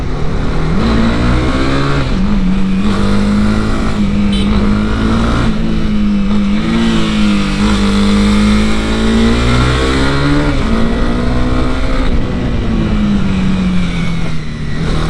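Honda CB 300R motorcycle ridden on the road, its engine humming steadily and loud close up, with pitch rising and falling as the throttle changes, over constant wind rush and no talk.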